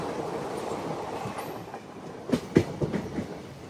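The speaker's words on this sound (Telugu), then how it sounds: "బయటకు వచ్చేస్తుంది ఈ ట్రైన్" Nearing Samalkot station, a passenger train on the Araku–Bangalore route rolls with a soft, steady rumble, then a quick run of sharp wheel clacks and light squeals over the rails.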